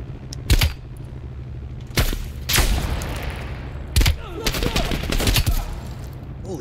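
Gunshots in Call of Duty Cold War, several loud, sharp single shots and short bursts spaced roughly a second or two apart, each with a booming tail, over a low background hum and faint talk.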